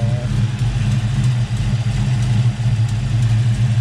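A car engine idles close up with a steady low rumble and a faint, irregular stumble suggesting a slight misfire, running alone without talk.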